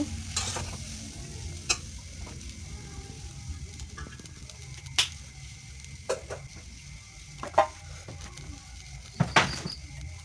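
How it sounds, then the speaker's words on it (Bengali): Food fries in a pan with a low background sizzle, punctuated by sharp scraping and clicking strokes as a spoon stirs it at irregular intervals, the loudest near the end. "এটাকে ভালো করে ভেজে নেব।"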